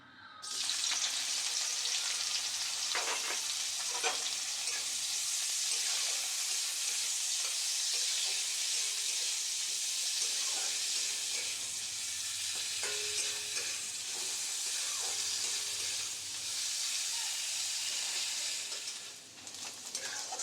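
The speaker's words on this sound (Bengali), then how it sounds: "তেলটা গরম হয়ে গেছে। এরপরে দিয়ে দেবো পেঁয়াজ কুচি" Steady, loud sizzling of chopped onions frying in hot oil, with occasional stirring scrapes, continuous throughout and no talking.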